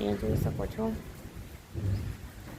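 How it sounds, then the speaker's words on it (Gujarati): Low thunder rolls in an overcast, rain-threatening sky, a deep rumble under a nearby person's talking, with rain-like hiss in the background. "ગાજવાનો અવાજ પણ આવી રહ્યો છે."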